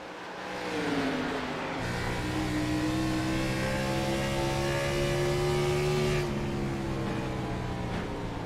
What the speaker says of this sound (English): So you can hear the braking that has to happen as you go into that turn